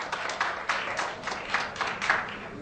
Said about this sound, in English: A big clap to Mr. Rao